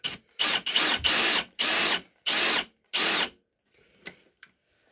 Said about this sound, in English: So this is a kind of a big drill for this job right now